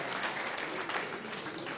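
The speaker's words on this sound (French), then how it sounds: "On les applaudit pour les encourager" An audience claps at an outdoor park inauguration ceremony, a short, steady patter of many hands at moderate distance with no voices on top.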